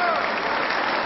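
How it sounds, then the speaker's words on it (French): Parliamentary deputies on the left applaud in a dense, steady burst of clapping, loud and close, filling the short moment without a break. "Si à gauche on applaudit sans compter"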